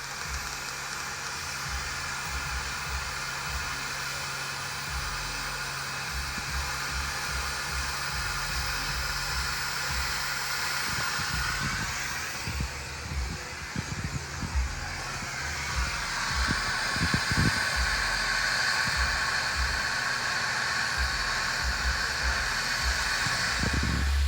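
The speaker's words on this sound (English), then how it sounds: "Now keep in mind we are using a torch and a giant grinding wheel to do these brackets." Torch and large grinding wheel working on steel tow-mirror brackets, a steady loud hiss with a high whining tone that rises and shifts partway through, over a low rumble.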